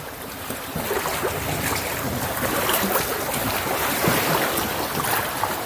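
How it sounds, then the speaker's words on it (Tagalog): Strong waves on Taal Lake wash and churn against a flooded house, a continuous rushing surge mixed with gusty wind buffeting the microphone, loud and close. "Lakas pa naman ng alon."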